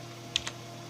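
Two quick, crisp keystrokes tap on a computer keyboard connected to a PlayStation 2 TOOL dev kit, close and faint against a low steady hum.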